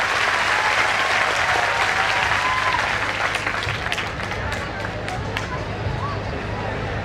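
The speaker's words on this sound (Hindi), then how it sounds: "उनके सम्मान के लिए आप लोग ताली बजा के उनका स्वागत करें।" Schoolchildren at a village school function in Sirsaganj clap together to welcome guests, a dense, sustained wash of applause filling the whole stretch at steady loudness, with faint crowd murmur underneath.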